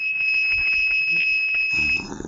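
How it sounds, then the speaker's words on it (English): A security alarm going off with a steady, piercing electronic tone that holds unbroken for about two seconds, then cuts out as a low rumble takes over. "It's a security alarm."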